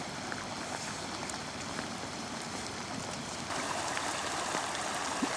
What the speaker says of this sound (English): that sight of the path turned into a stream